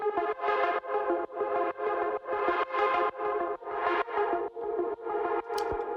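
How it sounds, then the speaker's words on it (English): A simple synthesizer line with an arpeggio layered over it, producing a steady run of bright, evenly spaced pulsing notes with rich harmonics, loud and upfront with no voices. "and then I put an arpeggio on top of it"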